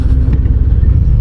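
A 2025 Harley-Davidson Fat Boy with a 117 engine rumbles steadily, close and loud, a deep low-pitched throb heard during a ride with wind noise.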